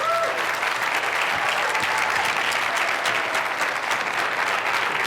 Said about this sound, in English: please give a great round of applause to Deepak Chopra